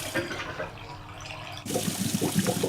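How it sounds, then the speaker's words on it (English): Cartoon washing machine running its first wash cycle, a churning watery swish that grows louder and busier partway through, with sloshing and gurgling up close. "Now we let the washing machine do all the work."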